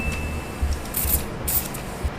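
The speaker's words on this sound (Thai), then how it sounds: "เดี๋ยวเราอะจะฉีดสเปรย์น้ำแร่นะคะ" A mineral water facial mist bottle gives two short hissing sprays onto a makeup puff. The sprays are close and fairly loud over a faint background hum.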